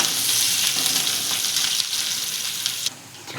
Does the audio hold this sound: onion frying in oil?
yes